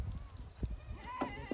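Goats and young kids bleating in a rural pen during the move from the field to the corral, short scattered calls near and far over a low outdoor background.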